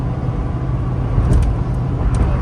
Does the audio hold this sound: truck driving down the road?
yes